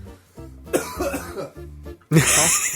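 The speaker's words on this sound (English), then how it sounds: "Coughing at my own name." A person coughs and clears their throat in several rough, close bursts, ending with a louder, harsher cough.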